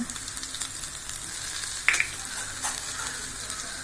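Pepper and cumin powder sizzle steadily in a hot frying pan for a tangy Tamil tamarind curry, a continuous close crackling hiss with a few small pops and no talking.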